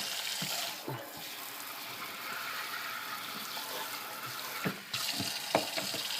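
Running tap water splashes onto a spoon in a sink as green spirulina powder rinses off, a steady close hiss with a few clinks and knocks.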